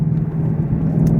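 A 2015 Ford Mustang GT with its 5.0L V8 and stock active exhaust, driving in fourth gear, gives a loud, close, steady low rumble that holds without pause.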